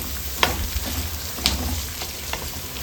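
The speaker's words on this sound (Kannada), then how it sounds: "ಎಣ್ಣೆಯಲ್ಲಿ ಒಂದು 5 ನಿಮಿಷ ಆದರೂ ಫ್ರೈ ಆಗಬೇಕಿದು" Capsicum and onion frying in oil in a pan, giving a steady low sizzle with a few brief clinks and stirring scrapes, close and alone.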